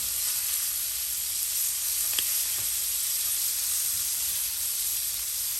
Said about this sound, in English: flip that shrimp on over, allow it to cook on the other side as well